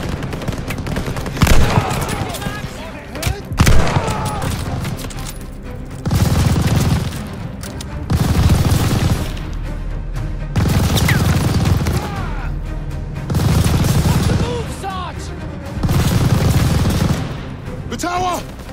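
Machine gun fire in Call of Duty Vanguard during Operation Tonga, a WWII battle: repeated loud bursts of automatic fire, each lasting about two seconds and separated by short pauses, with booms and shouted voices mixed in.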